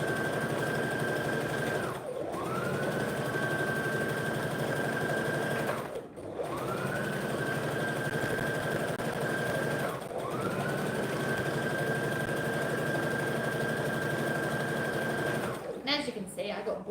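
Sewing machine stitching a tutu, its motor whirring in long steady runs with brief pauses between, close and loud, with a voice talking during the stops near the end.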